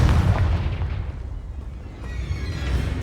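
The Confringo explosion spell bursts in Hogwarts Legacy with a loud, deep, rumbling boom. The roar decays for a couple of seconds, then swells again into a second low rumble.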